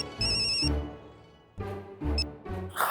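A telephone rings in short repeated bursts of a bright electronic tone while a conference call is being set up, with background music and room sound underneath and brief noise at the end.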